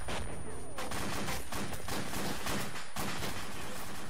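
Video game gunfire in a rocket-armed combat match, with dense bursts of shots and fusillade cracks running loudly through the whole stretch and a brief dip near the end.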